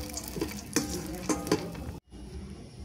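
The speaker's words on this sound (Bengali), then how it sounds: "অল্প একটু হালকা ঘি দিয়ে আমি একটু বাদামগুলো ভেজে নেব" Nuts frying in a little ghee, a steady close sizzle with several sharp stirring scrapes and clinks of a utensil against the pan, then the sizzle drops away briefly and resumes more quietly.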